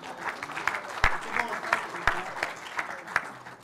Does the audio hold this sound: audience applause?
yes